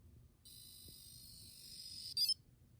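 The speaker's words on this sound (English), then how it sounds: "it sounded like a dial-up phone, and it made a little noise, and then it made a little chirp" An Edison robot emits a steady, high dial-up-style electronic tone for about two seconds, then ends in a brief, sharper chirp, all quiet over a low background rumble.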